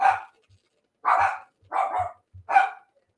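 A dog barks four times in a loose, uneven rhythm, loud and close, with brief low thumps between the barks.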